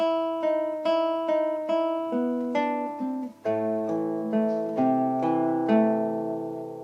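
Acoustic guitar picks out the opening of Beethoven's Für Elise as a clean melody, note by note in a steady flowing rhythm, with bass notes joining halfway through; close, moderately loud, no voices.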